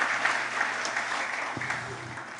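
A church congregation gives a burst of clapping at a Sunday afternoon service, dense and fairly close, gradually thinning and fading toward the end, with a faint voice and low hum underneath.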